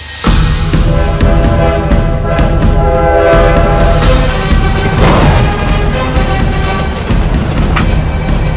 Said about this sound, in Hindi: ट्रेन आ गई सूबेदार, ट्रेन आ गई